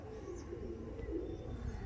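Pigeons coo in soft, low, throaty calls at close range, with a faint wash of background noise and no speech.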